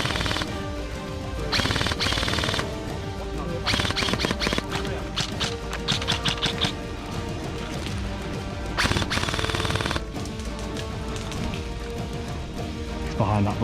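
Airsoft guns fire outdoors during a large team skirmish in the West Midlands, with repeated rapid bursts of sharp clattering shots, some close and loud, continuing across the whole stretch.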